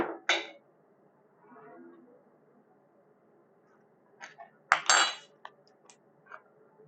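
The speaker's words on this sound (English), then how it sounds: "See if I can get a little clam action on this spoon." A spoon scooping keto cauliflower clam chowder from a pot, with a few close metallic clinks and scrapes against the pot, the loudest cluster near the end, and a brief murmur of a voice between them.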